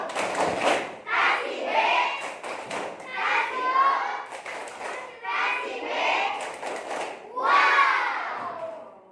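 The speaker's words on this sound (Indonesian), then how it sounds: "Oke, kita kasih tepuk uang dulu buat Alfa." Schoolchildren in an Indonesian classroom clap and chant together in rhythmic bursts for a classmate, a loud patterned cheer repeated four or five times with young voices shouting along.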